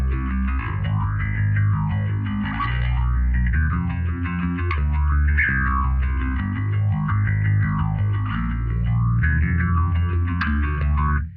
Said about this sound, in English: This rig gives you clean, warmth, edge width, overdrive, and full-on fuzz all in one patch.